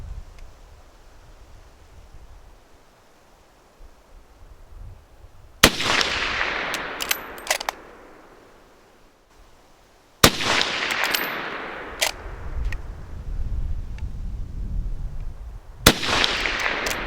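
A Mk III* SMLE rifle fires a series of sharp, loud outdoor shots spaced several seconds apart, each followed by a short echoing decay over a quiet, breezy background.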